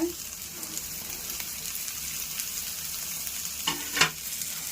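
Onion and tomato frying in a pan for bitter melon poriyal, a steady soft sizzle with a couple of louder stirring scrapes near the end, no talk.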